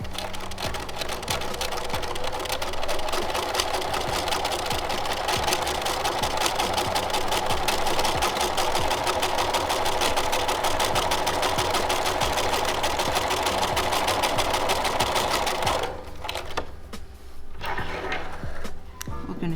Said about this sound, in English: And we're just going to stitch that down.